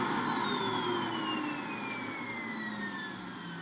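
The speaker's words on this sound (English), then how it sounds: "I can turn it on for you and you will see here the motor is fine" An AEG Electrolux vacuum cleaner motor runs steadily with a high whine that slowly drops in pitch, close and constant throughout with no talk.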